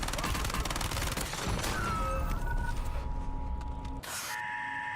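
Weapon fire in the Black Ops Royale battle royale shooter, a rapid burst of rattling shots that thins out and cuts off near the end, followed by quieter mechanical game sounds.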